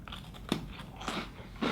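Close-up crunchy bites into a hard Parle Hide & Seek chocolate chip cookie, a few sharp crunches with brief chewing in between.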